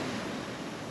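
Open-ocean waves slosh and hiss continuously around a boat on an Atlantic crossing in three- to seven-foot seas, forming an unbroken wash of water noise mixed with wind and no distinct breaks.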